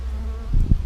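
Bees flying in and out of their hive, a low buzzing drone that swells louder as insects pass close by, heard alone without talk.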